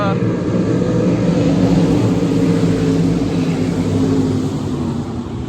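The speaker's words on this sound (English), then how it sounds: "let the sprint cars go by" Sprint race cars at a speedway roar past at close range, a dense, loud engine drone that holds steady and then eases slightly as the cars pull away.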